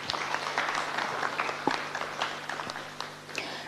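An audience at a World No Tobacco Day event bursts into applause, many hands clapping in a moderately quiet, sustained patter heard from across the room.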